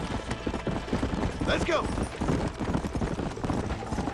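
Galloping horse hooves in the Red Dead Redemption game, a steady rapid clip-clop running throughout under spoken dialogue and a brief whinny-like sound.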